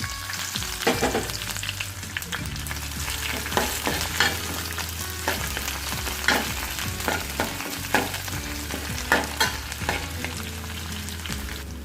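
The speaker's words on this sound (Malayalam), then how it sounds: "നമുക്കിതിലേക്ക് ചുവന്നുള്ളി ചെറുതായിട്ട് അരിഞ്ഞത് രണ്ട് കഷ്ണം അതുപോലെ വച്ചൽമുളകും കറിവേപ്പിലയും ചേർത്ത് കൊടുക്കാം" Chopped shallots, dried red chilies and curry leaves sizzle in hot oil with mustard seeds for a beetroot pachadi tempering, a constant crackling fry broken by sharp pops and spoon scrapes at irregular intervals.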